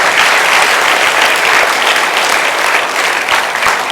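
Loud, sustained applause fills a seminar hall on cracking UPSC and TNPSC exams as the audience claps continuously and densely for the full stretch, with no pause.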